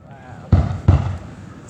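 Two sharp fireworks bursts boom at a beach in quick succession, loud, close thumps with short rumbling tails, and a voice briefly speaks before them.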